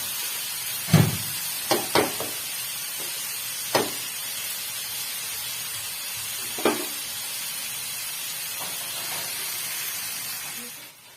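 Okra (bhindi) frying in a pan gives off a soft, continuous sizzle and hiss that runs throughout. A few sharp clinks and taps from stirring break through at irregular moments before the sound fades at the end.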